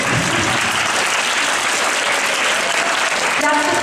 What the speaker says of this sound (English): Oh, if you can clap, I'll stop.